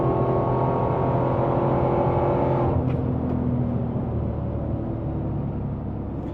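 A Dodge Demon 170 roaring hard under acceleration at speed on a private runway, a loud, sustained engine drone that shifts slightly and eases near the end.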